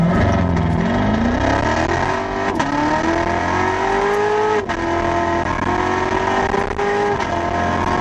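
A Corvette C7 Z06 engine revs hard under acceleration with a passenger aboard, its loud, close roar climbing in pitch through several gear changes, with brief dips between shifts and no talking.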